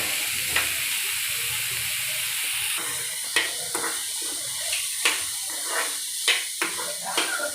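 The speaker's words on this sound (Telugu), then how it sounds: "వేసుకున్నాక ఫ్రై చేయండి" Carrot and beetroot frying in a pan, a loud, steady sizzle broken by repeated scraping and tapping as the vegetables are stirred, close up and without speech.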